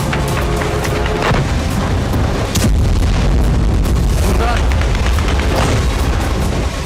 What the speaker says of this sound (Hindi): कजान की शीशे वाली चमचमाती इमारत से यूक्रेन का ड्रोन टकराया और जोरदार धमाका होते ही आग लग गई